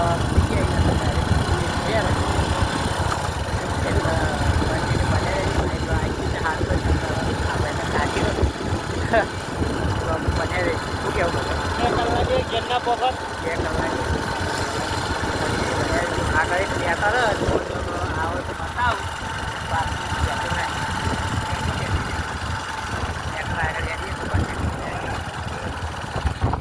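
A motorbike engine drones steadily while riding along a village road, a continuous low rumble with wind noise that runs throughout under intermittent talking.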